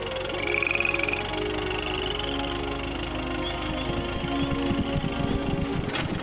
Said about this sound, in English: the frogs croaking?